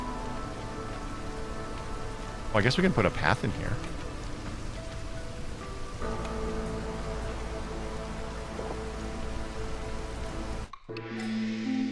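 Steady rain hiss from a storm in the colony-building game RimWorld, a continuous even patter in the background while someone talks briefly over it, with other game sounds and music beneath.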